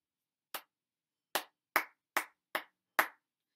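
Hand claps sound clearly in a quiet room, one single clap followed after a gap by a quick run of five, each crisp, near and unaccompanied.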